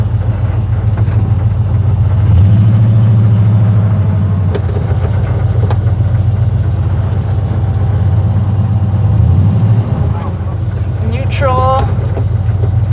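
A 1956 Chevy Bel Air hot rod engine runs roughly at low speed, a loud close rumbling drone that wavers and surges unevenly throughout, with people talking over it.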